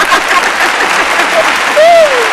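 Clapping in a radio studio on a wellness talk show, a brief burst of hand claps heard close and loud alongside people talking.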